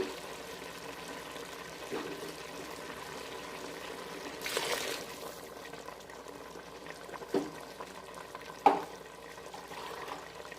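Boiled water poured onto rice in a pot while cooking fish biryani, a soft continuous liquid wash with a brief louder gush midway and a few light clinks, no talking.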